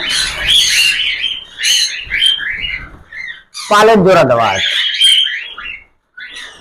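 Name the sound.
cockatiel squawking, scared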